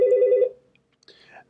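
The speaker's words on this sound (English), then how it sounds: "Sorry about my phone." A phone's ringtone sounds as a short, bright, pulsing electronic burst that cuts off abruptly, followed by a brief faint rustle and then quiet.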